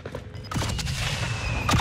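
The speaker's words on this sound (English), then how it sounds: "I see the gunshot." Gunfire in a multiplayer shooter game with a Bren LMG, heard as a dense burst of shots and booms that carries through the clip, somewhat distant, without any talk.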